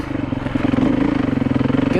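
A dirt bike rides along a slippery forest trail, its engine a close, steady pulsing drone with rhythmic throttle surges and some rattling over the ground.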